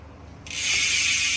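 Carbon Vision Metron bicycle wheel with a ceramic hub spinning freely, its ratchet giving a dense, fast buzzing click that starts suddenly and holds loud and steady nearby.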